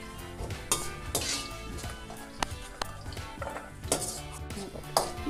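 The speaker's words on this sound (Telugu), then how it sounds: "కొద్దిగా నూనె వేసి అల్లాన్ని వేయించుకుందాము" Ginger fries in a little oil with a soft sizzle, broken up by metallic clinks and scrapes of a utensil stirring against the pan, irregular and close.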